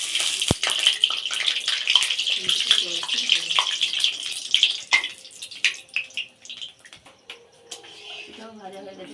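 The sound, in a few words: pitha frying in oil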